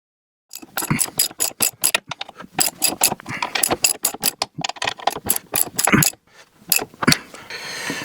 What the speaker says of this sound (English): I've got it set to 66 foot-pounds, and we're going to torque the 18mm bolt first